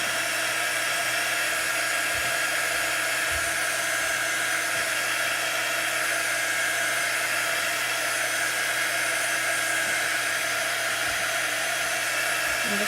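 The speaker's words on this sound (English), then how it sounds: "I'm just drying it with my dry tool." A handheld heat drying tool blows steadily over a layer of chalk paste on a craft project, a continuous close whirring hiss that runs unbroken without talk.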